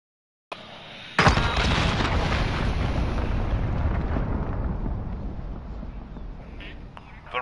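Cruise missile blast in a Call of Duty-style shooter: a faint whoosh, then a sudden loud explosion that rolls into a long rumbling, slowly fading roar.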